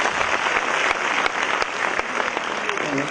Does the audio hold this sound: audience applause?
yes